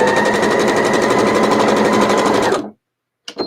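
Sewing machine stitching the final seam of a Civil War sampler quilt block, a loud steady rapid whir for about two and a half seconds that stops abruptly, followed by silence and a brief faint rustle.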